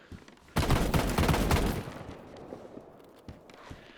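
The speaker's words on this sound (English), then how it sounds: "Is he shooting at you?" A loud, rapid burst of automatic gunfire erupts in the DayZ video game and lasts over a second. It then decays into a rumbling tail, followed by a few faint thuds.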